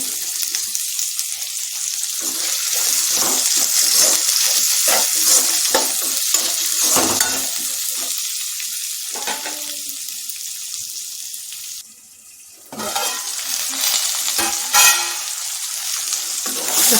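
Okra and potato fry in a pan with a loud, continuous hiss, broken by stirring scrapes and a short lull before the sizzle resumes.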